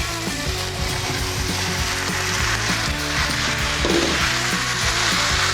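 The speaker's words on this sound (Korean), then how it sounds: "그리고 달궈졌을 때 이걸 하면서 프레이크 스프를 넣어줍니다. 그리고 같이 볶아주세요." Hot pan stir-frying flake seasoning soup for a 9 kcal Chapagetti-style noodle dish, a dense continuous sizzle with rhythmic scraping and clattering of a utensil against the pan.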